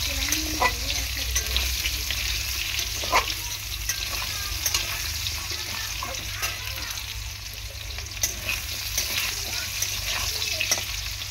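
Potato pieces frying in oil with salt crackle in a loud, continuous sizzle, with repeated scrapes and stirring strokes from a spoon in the pan throughout.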